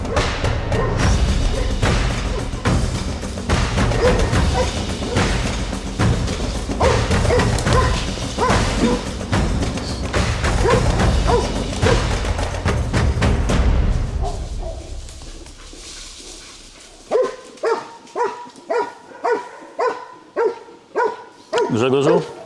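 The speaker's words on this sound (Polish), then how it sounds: "pies ani na moment nie odpuszczał dzika i mało tego, że go nie odpuszczał, to bez ustanku go głosił" A Wachtelhund hunting dog bays at a wild boar during a hunting trial in Slovakia. Loud crashing and thrashing noise comes first, then a run of sharp, evenly spaced barks stands out clearly at the end.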